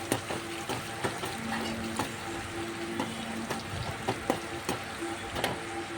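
Curry leaves, dried red chillies and green chillies being stirred into curd rice, with a steady run of soft scraping and clacking strokes close by and a faint background hiss. No one speaks.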